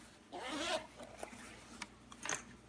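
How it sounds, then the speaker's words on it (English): Zipper pulled closed on the small carrying case of a Removu K1 gimbal, a close, quiet rasping zip followed by a couple of soft handling clicks. "Zips up and fits in there pretty well."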